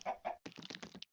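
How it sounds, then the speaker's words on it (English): A chicken in the video game Desolate Planet gives a quick run of short clucks, two separate notes followed by a rapid burst of chatter, close and clear. "And they made a brown chicken."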